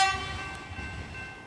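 A Melbourne suburban train, likely a 3-car set, passes a station in a steady, moderately loud rumble with bright high tonal whine throughout, no voices.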